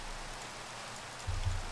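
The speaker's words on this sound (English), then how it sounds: "And of course it's raining." Rain falling in the Minecraft video game, played with the FTB Revelations modpack: a steady, soft hiss of rainfall that continues without a break, with a slightly louder low rumble toward the end and no talking.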